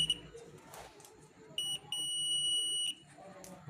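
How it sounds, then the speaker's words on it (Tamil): Continuity-test beep from a multimeter while checking wiring during a six-box switch junction box assembly: short beeps, then a longer steady tone after a brief break, loud and close over faint room noise. "அதுக்காக பீப் சவுண்ட் வச்சு பார்த்துக்குருவோம்"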